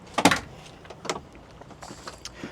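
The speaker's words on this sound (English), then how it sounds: "So we just open up these doors." The rear barn doors of a 2025 Toyota Landcruiser 78 open with a sharp latch clunk and rattle, followed by a few lighter knocks and clicks nearby.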